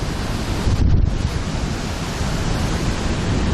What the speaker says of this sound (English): The hell are you doing out there in this wind?